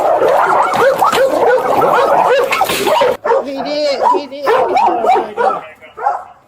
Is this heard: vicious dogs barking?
yes